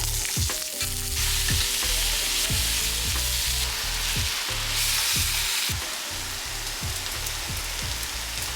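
Cubes of tofu fry in a pan with a steady, loud sizzle and crackle, punctuated by repeated stirring scrapes and knocks against the pan, with no voices.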